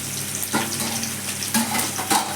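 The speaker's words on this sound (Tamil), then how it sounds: "வெங்காயம் பச்சை மிளகா காஞ்ச மிளகா எல்லாம் கொஞ்சம் எண்ணெய் வதங்கட்டும்" Onions, green and dried chillies and dal fry in oil with a steady close crackling sizzle, marked by a few louder bursts of spattering over about two seconds.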